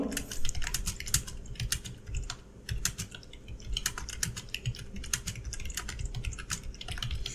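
Someone types a question on a computer keyboard in a quick, uneven run of close, crisp key clicks with brief pauses. The typing is heard alone.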